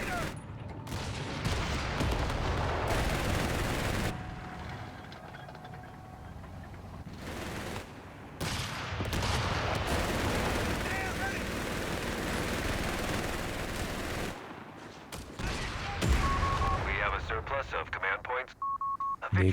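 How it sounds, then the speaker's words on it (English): Company of Heroes 3 battle sounds: machine gun bursts and heavier artillery fire crackle and boom in dense, overlapping volleys, with game interface beeps and tones mixed in toward the end. "Bringing in the whiz-bangs just for their machine gun fire there"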